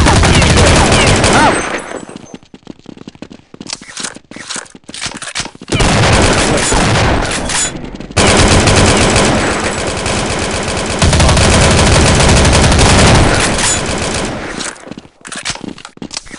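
Dense, loud gunfire from Counter Strike 1.6, with sustained automatic bursts and rapid volleys that pause briefly and then resume at full intensity.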